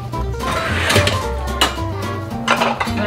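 Dishes being washed in a home kitchen, with repeated clinks and clatters of plates, pots and cutlery against each other and a steady background rush, close and moderately loud without talking.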